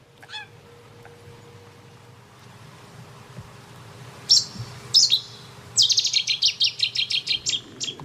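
Birds at an ornithological reserve in the Balearic Islands chirp in short bright bursts, sparse at first and then in a quick rhythmic series of tweets, over a low outdoor hum.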